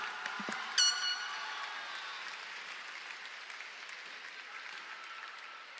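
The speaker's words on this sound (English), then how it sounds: "Round of applause, everyone." Graduation ceremony audience at Mt. Juliet High School breaks into sustained applause, opening with a sharp horn-like blast and cheering before settling into a steady wash of clapping that fades slightly.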